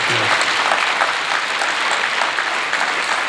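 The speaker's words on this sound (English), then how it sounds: "Can we give them a nice round of applause?" Dense, steady applause from a large audience at a school matric awards ceremony, loud and sustained throughout with a brief low voice at the start.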